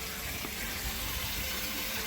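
Water runs steadily into a koi pond as it is being filled, a continuous close rushing wash with no voices over it.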